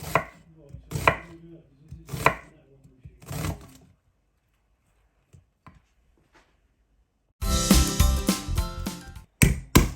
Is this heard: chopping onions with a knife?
yes